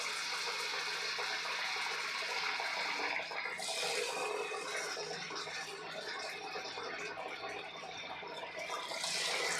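Paneer pieces frying in hot oil over a medium gas flame, a steady dense sizzle and crackle that runs continuously and fairly loud throughout, with no talking.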